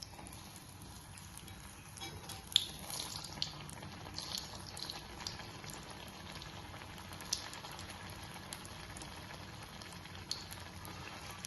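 Tel pitha, an Assamese fried cake, frying in hot oil in a pan on a gas stove: a steady, quiet sizzle with scattered small pops.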